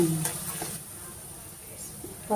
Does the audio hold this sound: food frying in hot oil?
yes